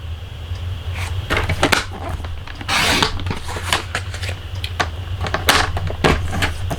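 A paper trimmer slicing cardstock for a card, heard up close as a few sharp slides and clacks of the blade among handling and paper rustles, over a low steady hum.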